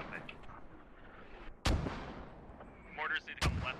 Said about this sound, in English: Let's see where these mortars land.